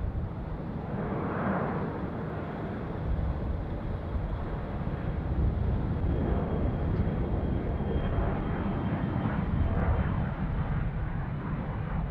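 A jet airliner's engines roar continuously at Chicago O'Hare International Airport, a broad steady rumble with wind buffeting the microphone, heard from a distance without any voices.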